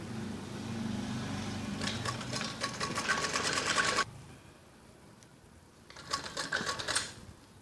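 A sewing machine stitches piping along the edge of a kids' top in two bursts of rapid needle chatter, close and steady, with a quieter pause between them.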